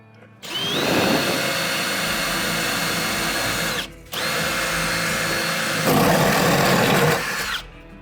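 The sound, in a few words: drilling a hole with a spider bit in building wall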